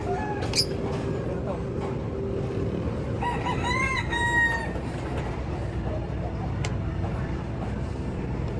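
A gamecock rooster crows at a training yard in Calauag, Quezon, a faint crow heard amid a noisy outdoor backdrop with low rumble and murmuring voices.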